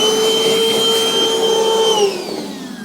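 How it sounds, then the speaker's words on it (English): A vacuum cleaner sucks up metal filings left from drilling during a trailer hitch install, a loud, steady whine close by that shifts in pitch and then drops in level near the end. "keep vacuuming, kind of make sure you got this all nice and cleaned up"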